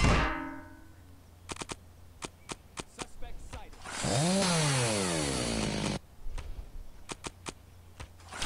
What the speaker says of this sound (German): Kettensäge, die regt mich übelst auf irgendwie, ey.